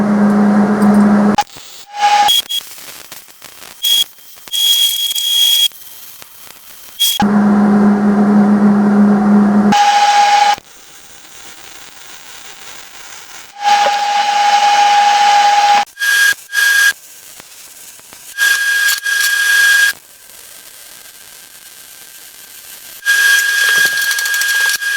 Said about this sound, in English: We'll cut them at this length right here.